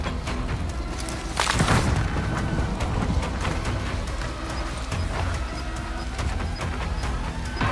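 Frag grenade explosion in Call of Duty: Modern Warfare, a loud booming blast that swells and rumbles, followed by lingering low battlefield noise.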